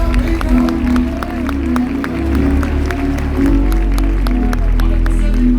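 A church congregation claps in praise over a deep, droning musical backing. Scattered claps repeat throughout at a moderate distance.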